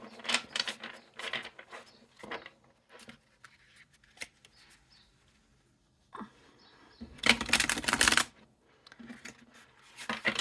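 A travel-size Monstarot tarot deck being shuffled overhand, with bursts of papery card riffling and slapping in short clusters, one louder sustained flurry midway, all close and without talk.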